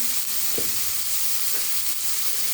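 Sliced capsicum and onion fry in a pan with a steady, even sizzle, plus a few soft stirring scrapes close by, and nobody speaks.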